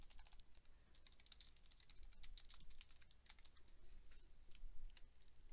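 Account information being typed on a computer keyboard, a quiet, steady run of close key clicks with an uneven rhythm, no one talking.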